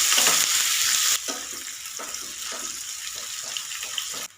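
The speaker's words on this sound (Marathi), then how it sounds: "चार कांदे घ्यायचे हे घालूया कांदे भाजून घेऊया" Four chopped onions dropped into a hot pan for a chicken fry, giving a steady broadband sizzle with a louder burst at the start and soft stirring scrapes through the rest, no voices.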